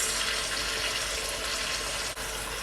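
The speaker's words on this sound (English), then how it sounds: "I add water from my kettle, like so." Water from a kettle pours into a bowl used for seasoning chicken, a steady, close, full splashing rush that runs unbroken with only a brief dip near the end.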